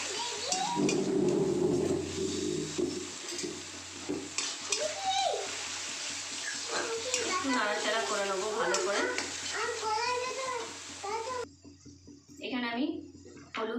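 Matar paneer masala is stirred in a pan, with a sizzling, watery scrape running steadily underneath a voice speaking throughout.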